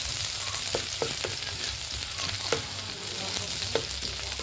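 Onion and garlic frying in oil for a Filipino-style spaghetti sauce, a steady close sizzle with a few sharp clicks of a spoon or spatula scraping the pan, no voices.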